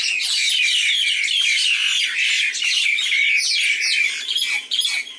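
Several birds squawk and chirp loudly and close by outside a bungalow in Thailand while fighting or mating. The harsh calls overlap in dense, nonstop bursts.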